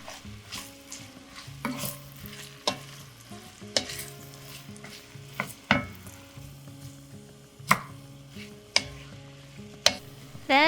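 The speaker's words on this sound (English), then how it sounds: "And then we'll put all of our vegetables in and saute until soft." Vegetables sautéing in melted butter for a chicken pot pie filling, a soft steady sizzle broken by repeated sharp scrapes and knocks of a utensil against the pan.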